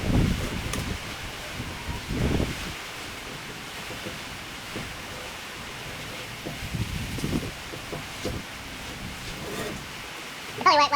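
Gusty wind blows outdoors around a campfire with a cast iron pan, a broad rushing roar that rises and falls, with low buffeting thumps from gusts.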